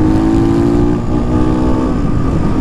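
A loud, throaty modified motorcycle exhaust on a Bajaj Pulsar AS drones steadily at close range, its engine note holding with a slight dip partway through.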